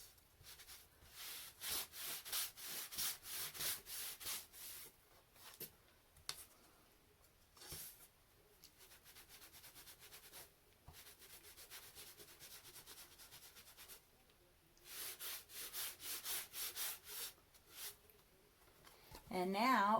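A towel rubs paint into a wooden farmhouse Valentine sign: repeated brisk back-and-forth scrubbing strokes in several bursts, close and fairly loud, with pauses of quieter handling between them.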